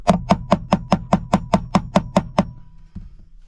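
A hammer strikes a metal shifter mounting plate to flatten it during a ShiftR111 shifter install on a Lotus Evora, a steady run of about twelve sharp, ringing blows close by, then a pause and one softer tap.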